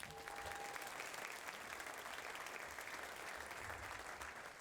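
At a hall of fame ceremony, a crowd applauds inductee high school coaches with steady, sustained clapping from many hands, even in level and somewhat distant for the whole stretch.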